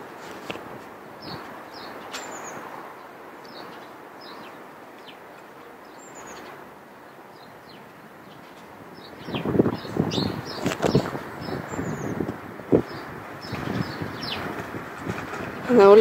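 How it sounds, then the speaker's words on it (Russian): Small birds singing outside, faint scattered chirps and short calls in the distance, with rustling, footsteps and handling noise growing louder in the second half. "На улице поют птички."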